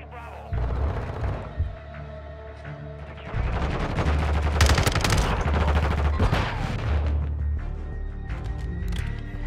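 Rapid automatic gunfire from an FSS Hurricane in Modern Warfare 2, loud bursts running through most of the stretch with overlapping shots and game ambience, a dense volley after the first few seconds.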